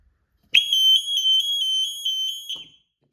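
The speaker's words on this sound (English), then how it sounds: "that is, ladies and gentlemen, how an alarm works" 1977 Acorn alarm panel sounding after its wires are broken, a loud piercing continuous electronic tone with a slight warble, starting abruptly and cutting off after about two seconds, close up with no talking.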